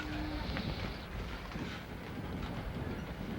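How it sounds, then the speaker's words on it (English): Wind gusts buffet the microphone in a broad, rushing roar that swells and eases slightly, with a faint brief tone early on, at an outdoor tennis tournament, the 1979 US Open. "you can hear the wind as it gusts up yet again."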